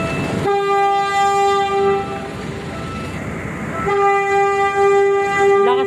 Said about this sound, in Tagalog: Lakas ng busina ng tren, mga kabayan.